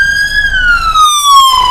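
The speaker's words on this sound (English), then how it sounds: "you can hear the sirens" A fire department Jeep's siren wails loudly and close, one steady tone slowly sliding downward with no speech over it.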